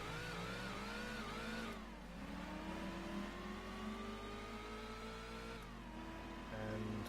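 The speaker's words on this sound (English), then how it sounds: "I of course am already off to a poor getaway, because I had lots of typical rear-wheel drive wheel spin" Race cars, including two Shelby Mustangs and a Dodge Challenger, rev hard at the start of a US championship race in Gran Turismo 2, with rear-wheel-drive wheel spin. Steady engine whine rises and falls in pitch, loud and close, with no talking.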